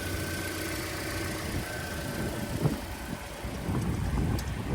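A 1.8-litre car engine idles steadily at an outdoor car market, a low continuous rumble with faint background bustle and no talk.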